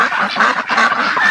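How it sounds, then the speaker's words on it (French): Several Streicher ducks in their pen quack repeatedly in rapid, overlapping bursts, close and loud throughout, with no pauses and no talking. "Et donc ici ce sera les canards de Stretcher"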